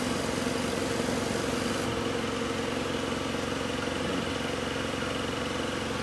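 A 2006 steam generator starts and then runs with a steady, loud mechanical hum and drone that continues without a break, with no talking.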